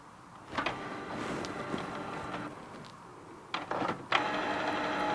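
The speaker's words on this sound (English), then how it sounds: "then the printer will start doing initialization." A Canon G2411 inkjet printer whirs and clicks steadily, with mechanical bursts and a couple of sharper clunks as it runs through its startup initialization nearby.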